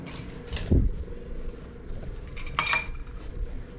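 Cutlery and plates clink and scrape before a meal, with a few sharp metallic taps and a brief rattle close by against a soft outdoor background.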